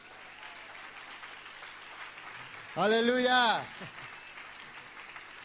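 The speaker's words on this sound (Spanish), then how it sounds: "Dale un fuerte aplauso." A church congregation gives a loud round of applause during a sermon, steady clapping running through the whole stretch while a voice briefly rises over it with a shouted exclamation.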